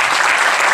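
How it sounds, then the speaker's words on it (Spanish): Applause from an audience honoring Silvio López at a sports event in Cali, a dense, steady wash of many hands clapping at once, loud and close with no talk over it. "quiero un aplauso para él"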